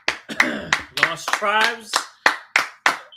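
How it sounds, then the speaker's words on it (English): A class claps hands together in a row of sharp, loud, evenly spaced claps, with someone talking over the first half. "All right, clap it up."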